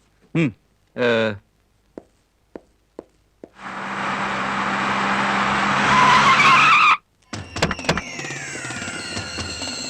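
A car in a 2000 Kannada feature film starts up, with a few door and mechanical clunks and voices before the engine builds into a loud, rising rev and tire skid as it drives off, followed by cluttered clanks and ringing tones.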